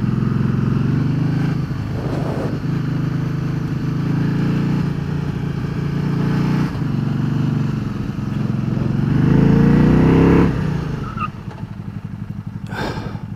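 A Can-Am Spyder RS three-wheeled motorcycle accelerates with a loud, close engine drone that rises in pitch, breaks briefly for a gear change into second, then pulls on before easing off near the end.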